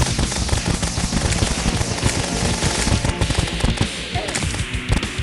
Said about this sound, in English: in the second phase I used my star cannon while shooting downwards